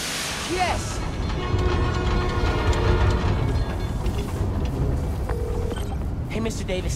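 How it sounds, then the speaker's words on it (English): A subway train in the Spider-Man Miles Morales video game powers up, with a continuous rolling rail rumble and mechanical clatter under game sounds and speech. "I can use that to power the trains."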